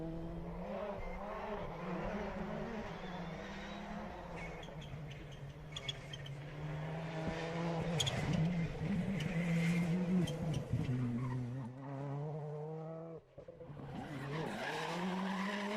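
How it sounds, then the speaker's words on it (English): Citroen C3 rally car at stage speed during the Cork 20 International Rally, engine note rising and falling through gear changes with tyre skids and squeals, loud and continuous throughout. "James Ford in the Citroen C3 with Neil Shanks in the notes"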